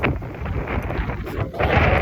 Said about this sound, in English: you probably can hear the breeze is strong right now